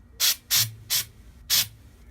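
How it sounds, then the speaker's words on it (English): Aerosol Santa snow hisses onto a wine bottle in four short, loud bursts. Each spray is crisp and close, separated by brief pauses, with no talking. "Let me try and spray some more on top"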